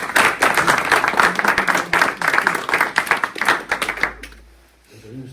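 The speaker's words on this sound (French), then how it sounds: "je pense qu'on peut tous vous applaudir pour votre participation" A small audience at a village garden competition prize-giving in Carentoir applauds the winners, close, lively clapping for about four seconds before it stops and a faint murmur follows.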